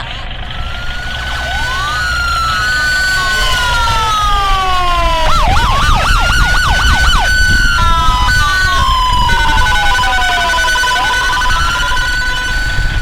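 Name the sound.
municipal civil defense siren announcement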